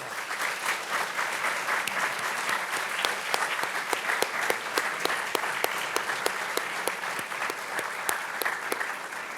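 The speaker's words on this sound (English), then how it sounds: "Please share your gratitude with applause" Sustained applause from an audience at a college celebration event, a dense continuous roll of many hands with sharp individual claps standing out, steady and fairly loud throughout without speech.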